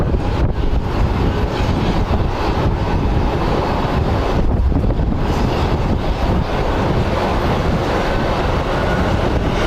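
Strong wind buffets a microphone at Phoenix Sky Harbor International Airport, a loud, constant roaring rumble with gusty surges and no speech.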